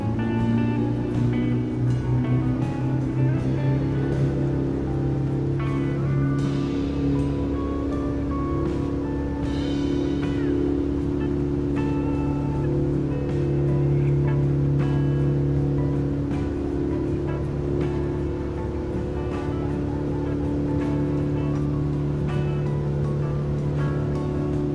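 A diesel car engine held at raised revs during an engine decarbonizing treatment, a loud, steady droning hum with sustained tonal layers that shift slightly in pitch throughout, with no talking.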